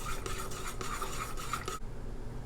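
A sauce of oyster sauce and soy sauce is mixed in a pan, giving a steady scraping, clinking stir for about two seconds before it stops abruptly.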